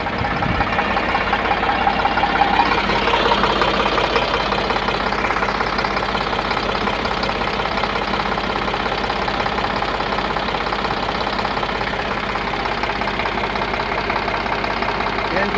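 A 2016 Eicher 548 tractor engine idles steadily nearby, a continuous low diesel rumble with knocking vibration that holds an even level throughout.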